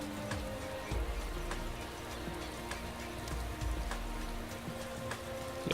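Steady rainfall patters throughout a Motorsport Manager race weekend in Rio, a dense wash of drops with faint low engine-like hum beneath, no voices.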